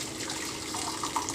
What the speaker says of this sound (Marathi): पाणी काढून टाकायचं